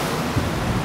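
Water lapping at the shore of the wide river-sea estuary at Montevideo, a steady broadband wash of small waves with gentle surges, fairly loud and close, no voices.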